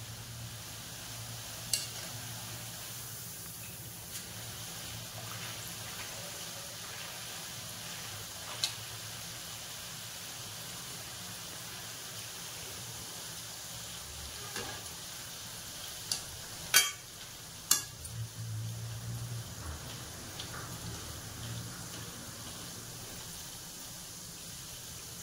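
Garlic sev made with lemon frying in hot oil, a steady low sizzle and soft bubbling that holds evenly throughout, with a few sharp clicks and taps from utensils near the pan.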